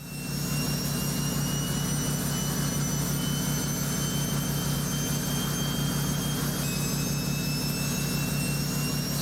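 A heavy turbine engine in an American Truck Simulator battle truck mod lets out a loud, continuous jet-like roar with a high whine on top. The sound stays close and unbroken, with no voices.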